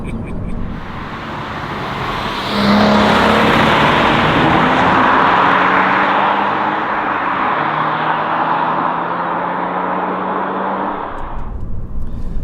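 A Toyota GR86 sports car drives along a road, its engine and road roar swelling sharply after a quieter start into a steady loud drone with shifting engine tones, fading near the end.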